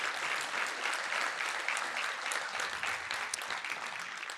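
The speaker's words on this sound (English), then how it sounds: "I think we really need to give a round of applause for that" Indoor audience applause at an academic affairs address, dense steady clapping from a crowd that holds evenly and fades slightly at the end.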